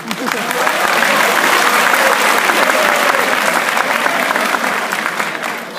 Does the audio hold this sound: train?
no